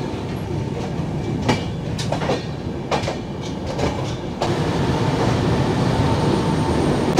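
The Puri Duronto Express runs on the rails past Khurda Road Junction, heard from inside a first-class coach as a steady, loud rumble with rhythmic clicks of wheels over rail joints, growing heavier toward the end.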